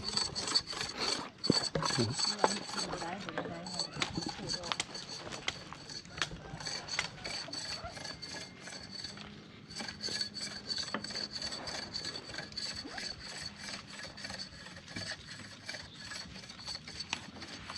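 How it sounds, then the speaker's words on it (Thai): Sugarcane stalk having its skin scraped off with a hand scraper at a fresh cane-juice stall in Laos, a steady rasping, rubbing scrape repeating close by with occasional louder strokes. "มันขูดอ้อยโดยเฉพาะอันนี้ฮะ"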